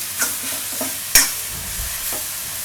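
A bottle gourd mixture cooking in a pan for parathas, stirred with a few soft scraping strokes and one sharp clack of the spoon against the pan over a low, steady sizzle, with no talking.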